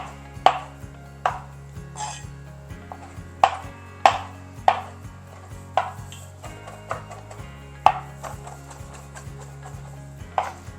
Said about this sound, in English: I'm just going to do a quick run through of my knife.